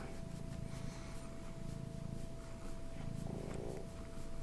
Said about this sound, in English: you'll probably hear him purring and meowing and making a bunch of noises throughout the recording